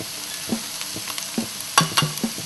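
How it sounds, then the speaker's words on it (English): Ground turmeric and salt being stirred into a chicken curry in a pan, giving a few soft scraping strokes over a faint sizzle, close and fairly quiet. "we'll stir that in"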